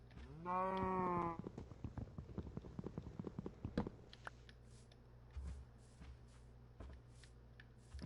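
Cows mooing in the video game Minecraft: a loud drawn-out moo near the start, followed by scattered thuds and soft footstep-like clops in a quieter stretch.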